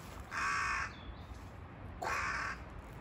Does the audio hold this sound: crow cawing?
yes